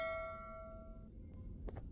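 Doorbell chime in the horror video game Garten of Banban 3, sustained ringing bell tones that decay over about a second, followed by quiet room tone and a couple of faint, brief clunks.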